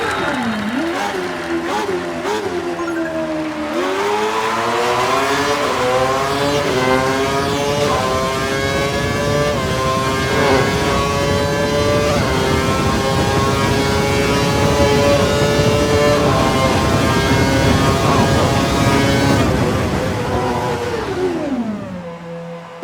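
An F1 race car in the F1 2012 video game revs hard and accelerates, its engine note climbing through repeated upshifts in a loud, continuous whine that runs for about twenty seconds, then drops away at the end.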